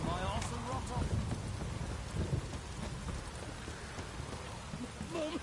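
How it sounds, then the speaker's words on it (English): Heavy rain in The Witcher 3: Wild Hunt video game pours in a dense, steady hiss, with low rumbles of thunder rolling underneath throughout. "This downpour's a bastard, it is."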